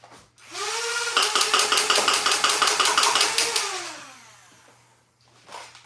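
A Dart Zone Venom Pro foam dart blaster's flywheels whine up quickly to a steady high-pitched spin, while a rapid rattling burst of firing runs over the top, then the whine winds down and a short rev follows.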